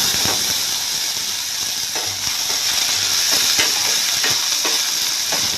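Small shallots fry in hot oil in a pan for chicken gravy, a loud continuous sizzle with occasional scraping stirs and no talking.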